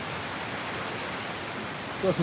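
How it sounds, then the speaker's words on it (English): A giant waterfall inside a cave makes a steady broadband roar of rushing water, constant and enveloping, with a voice briefly starting to speak at the very end. "It is just a giant waterfall"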